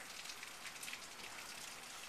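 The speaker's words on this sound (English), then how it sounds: "it's nice that we have rain and all" Steady rain pours down during a Los Angeles thunderstorm, a dense, even hiss of drops striking surfaces, faint and continuous with no voices or thunder in this short stretch.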